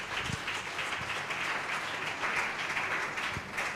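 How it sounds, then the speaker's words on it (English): Steady, dense clapping from a large church congregation at a Sunday morning service, continuous and fairly loud throughout with no clear pauses. "Clap your hand for Jesus."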